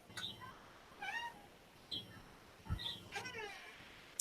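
A pet cat meows several times in short, rising calls spaced about a second apart, fairly close in a quiet home during a live stream, with a soft thump partway through.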